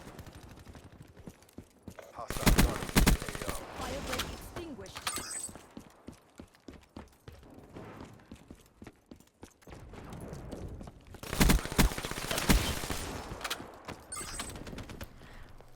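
Rapid bursts of automatic gunfire in a video game shooter while the player drop shots, two loud clusters of shots separated by quieter clicks and movement sounds.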